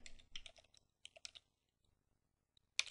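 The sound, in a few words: typing a command on a computer keyboard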